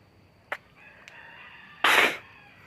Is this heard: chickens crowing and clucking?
yes